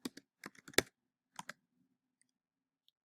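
Fingers tapping a computer keyboard in short clusters of quiet, close clicks, a quick flurry at the start and a couple of keystrokes after a pause, then near silence.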